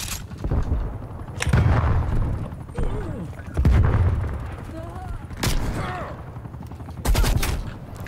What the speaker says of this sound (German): Achso, das ist eine Pumpgun.